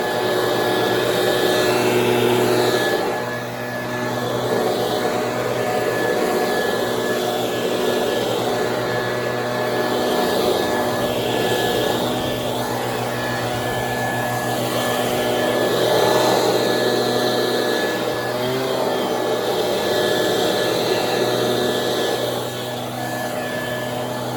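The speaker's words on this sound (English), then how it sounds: "we started using the Stihl leaf vac" A Stihl leaf vacuum drones at a steady, loud whine during a fall yard cleanup, its pitch dipping briefly a few times as it runs continuously without any talking.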